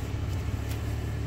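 A 2003 Ford Escape in four-wheel drive pushes through a snow mound, a low steady engine rumble close by.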